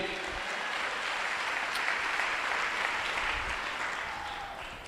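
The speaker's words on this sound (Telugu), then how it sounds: "కొట్టు చప్పట్లు ఒకసారి" An audience at a Christian worship gathering claps together in a continuous round of applause, fairly quiet and distant, holding steady before tapering slightly at the end.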